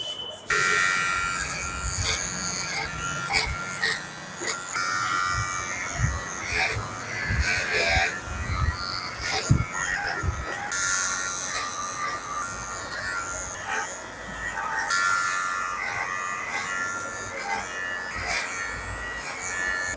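Electric hair clipper buzzing steadily close up while cutting a schoolboy's hair short, with bursts of scraping and rubbing as it moves over the head; voices talk faintly in the background.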